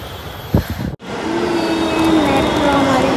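Metro train pulling into a station: a loud, steady rolling rumble with a faint wheel squeal, after a short clatter and a brief gap at the start.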